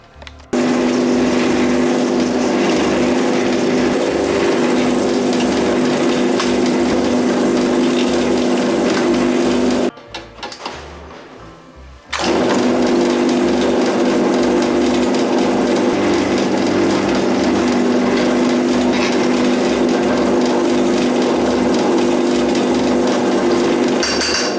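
A power drill bores holes through a metal exhaust baffle with a loud, steady mechanical whine. It stops abruptly for about two seconds, then starts again and keeps running evenly to the end.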